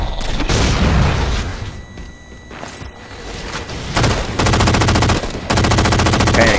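Gunfire in Halo 4 during a multiplayer match: a few heavy shots and booms, then loud, sustained automatic bursts of panic shooting, with a short gap between them.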